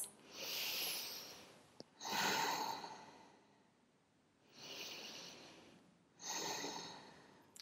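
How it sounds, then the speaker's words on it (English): Deep slow breaths during a prenatal yoga routine: four long inhale-exhale swells with soft airy hiss, close and quiet, evenly paced with pauses between. "2 more huge deep breaths"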